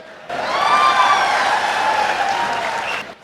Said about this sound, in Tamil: சினிமா நடிகையோட பேரை சொன்னா என்ன சிறப்பா கைத்தட்டல்.